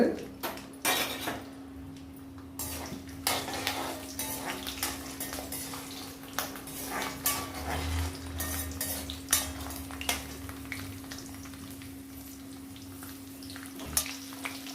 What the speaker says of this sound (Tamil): காஞ்சதுமே நான் வந்து இந்த வத்தலை போட்டுக்கிட்டேன் வெள்ளைப்பூடு